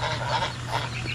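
A duckling calls outdoors, giving two or three short nasal honking quacks in quick succession at close range, with no talk over it.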